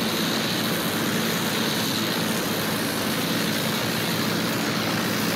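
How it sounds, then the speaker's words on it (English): An enemy propeller plane in the World War I shooter Battlefield 1 drones loudly and steadily overhead, a continuous engine roar filling the whole stretch with no talking. "There! Enemy plane!"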